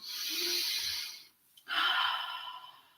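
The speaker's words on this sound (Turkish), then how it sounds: "Nefes alıyorum" Deep breathing during an anger release exercise: a long, airy breath fills the first second and a half, then a short pause, then a second strong breath. Close and fairly loud, with no talking.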